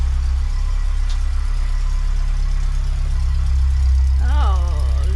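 An Austin Allegro engine idles steadily with the choke partly pushed in, a low rumbling drone close by, with a brief voice-like warble near the end.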